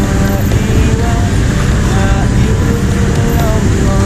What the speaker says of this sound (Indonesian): Macet banget